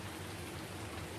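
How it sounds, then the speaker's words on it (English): Steady rain falls around a farm shed, a dense even hiss that fills the brief moment with no voices over it. "It's raining again."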